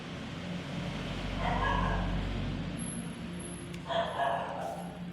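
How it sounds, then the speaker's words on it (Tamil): A dog barks at night in a narrow residential lane, two short bursts of barking separated by a pause, moderately near over a steady low traffic rumble. "நைட்டு 10 மணிக்கு நாய் குலைக்குது"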